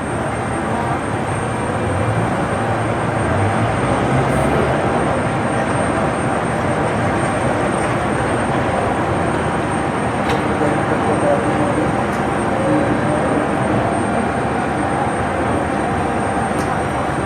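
A passenger airplane on the apron at Rzeszów-Jasionka airport, its engines giving a continuous loud drone and hum that stays steady throughout, with faint background activity.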